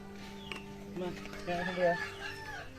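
Chickens at an outdoor Filipino birthday gathering with roasting preparations, giving several short clucking and crowing calls over a steady background hum, with voices chattering faintly behind.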